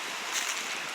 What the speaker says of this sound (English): Nice, other than it's windy.